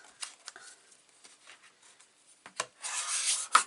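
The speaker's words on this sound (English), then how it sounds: "I'm rubbing out my crease marks where I dinted it" Paper of about 225 GSM being rubbed to flatten crease marks while making a mini flip album, heard as soft, close scratchy strokes that build into a louder sustained rubbing near the end.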